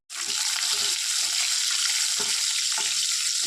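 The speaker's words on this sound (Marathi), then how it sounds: "त्यामध्ये मी लसूण घेतलं फोडणीसाठी आणि थोडीशी हिंग आणि चांगलं परतून घ्यायचं" Steady, loud sizzling of garlic and asafoetida frying in hot oil, continuous throughout with a few brief stirring scrapes.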